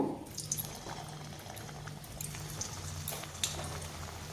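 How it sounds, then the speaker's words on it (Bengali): Lobongo Lotika pitha frying in oil over low-medium heat: a soft, steady bubbling sizzle with scattered small crackles and a faint low hum underneath. "বাকিগুলো আমি এভাবেই ভেজে নেব লো টু মিডিয়াম"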